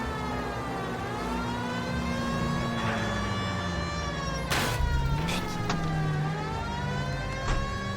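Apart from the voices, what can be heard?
police car siren in video game L.A. Noire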